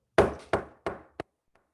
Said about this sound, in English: And one day, there was a knock on his door.